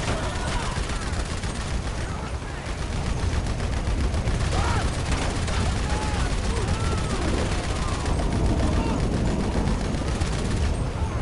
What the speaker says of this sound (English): You're loving that machine gun, aren't you? It's a machine gun.